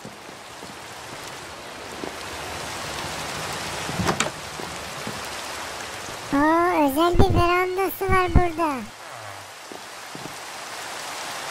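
Steady rain falls across a Minecraft world near a house with a veranda and garden, a continuous hiss throughout while someone talks over it.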